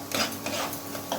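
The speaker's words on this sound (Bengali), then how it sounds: "আমি আদা রসুনের বাটা ততক্ষণ আমি নাড়াচাড়া করে যাবো যতক্ষণ না কাঁচা রসুনের গন্ধটা চলে" Ginger garlic paste being stirred in a pan for rui fish kofta curry: a short run of soft scraping and rubbing strokes over a light sizzle, close and fairly quiet.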